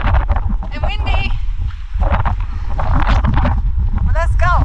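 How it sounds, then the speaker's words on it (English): Strong, freezing wind buffets the microphone on a mountain hike at the Seven Rila Lakes in Bulgaria, a steady loud rumble that gusts up and down while a person talks over it. "the wind just cuts you in half"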